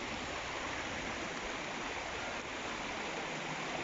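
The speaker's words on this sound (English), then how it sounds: "the water moves down, down, down, down, down, down, down, and then into the sea" A small cascade pours down toward the sea on the Scottish coast, a steady, even rush of water with no breaks, faint and unbroken throughout.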